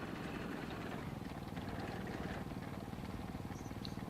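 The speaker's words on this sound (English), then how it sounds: "Listen to that engine and those tracks." Low-tier artillery tank engine and clanking tracks in World of Tanks, a steady rumbling drone with a fast rattling pulse, quiet and continuous with no talk.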